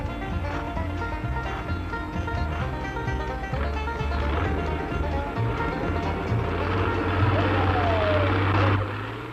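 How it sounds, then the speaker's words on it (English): A turbocharged Perkins six-cylinder tractor engine roars steadily during a pull at an outdoor agricultural show, loud and continuous, its deep drone building and straining harder near the end before easing off. "She's fitted with a Perkins 6-cylinder engine, turbocharged."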